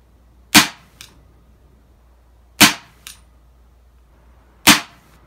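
Three sharp, loud shots from a Diana Stealth AM03 air rifle fired outdoors, roughly two seconds apart, each followed about half a second later by a fainter distant smack from the target.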